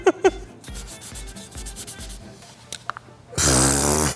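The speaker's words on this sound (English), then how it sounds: "All right, let's get to sanding." Scraping sanding strokes on a 3D-printed prop blaster rub back and forth in a steady rhythm, then a louder, harsher burst of sanding takes over at the end.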